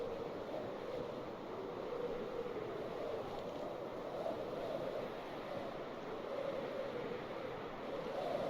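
A steady, even wash of ocean waves beside a Minecraft ocean biome, continuous and soft with no clear breaks, like surf and wind rolling on without change.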